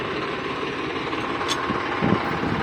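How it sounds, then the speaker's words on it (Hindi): A nearly new tractor's engine idles outdoors on a farm field, a steady, fairly loud low rumble that continues throughout with a faint brief knock near the end. "ये देखिए ट्रैक्टर बिल्कुल नया ही है दोस्तों।"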